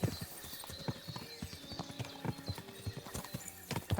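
Galloping hoofbeats from a horse ridden in the video game Kingdom Come: Deliverance 2 thud in a quick, continuous rhythm, up close and prominent, with faint tonal game ambience behind them.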